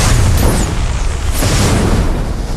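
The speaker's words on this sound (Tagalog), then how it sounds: "yumanig ang buong lugar sa isang nakabibinging pagsabog isang IED or Improvised Explosive Device, ang sumabog sa gilid ng gate" An IED explodes beside a gate: a loud, deep boom with a rumbling, noisy tail that fills the short clip, with no voices.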